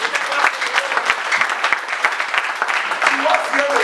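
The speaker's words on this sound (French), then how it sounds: "Il y a beaucoup de gens qui applaudissent très fort pour la main." An audience at a French-language religious teaching applauds loudly, a dense, continuous clatter of many hands sustained throughout.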